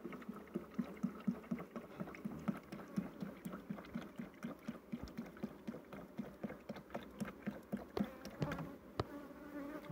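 Dense swarm of Italian honeybees buzzing inside a hive, a continuous close hum with rhythmic pulsing and scattered knocks and taps.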